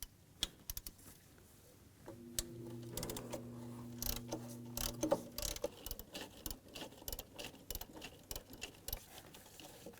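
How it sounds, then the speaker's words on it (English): A ratchet with a 10mm socket removing exhaust manifold nuts on a 2002-2009 Chevrolet Trailblazer, with rapid close clicking bursts, a few sharp metallic knocks and a brief tonal hum in the middle. "Use a 10mm socket."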